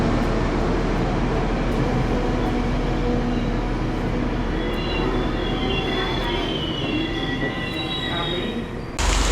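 A long-distance passenger train between the Gold Coast and Gladstone rumbles steadily from inside the carriage, with continuous low rolling noise and faint wheel squeal rising in the second half before an abrupt cut.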